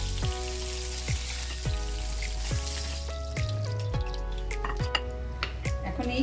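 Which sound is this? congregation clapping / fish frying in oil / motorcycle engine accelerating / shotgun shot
fish frying in oil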